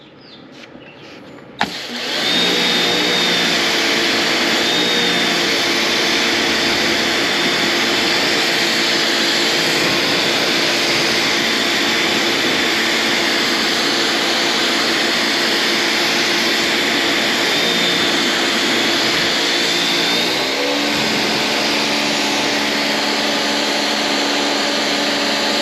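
A Karcher K1700 Cube electric pressure washer runs steadily while spraying bugs off the front of a Rivian R1T, a loud continuous motor whine and hissing water jet starting abruptly after a quiet moment and holding near and constant.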